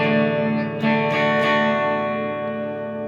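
An Epiphone Special II electric guitar played clean through delay and reverb: sustained chords ring out with a few picked accents, each tail lingering and washing away slowly, with no talking.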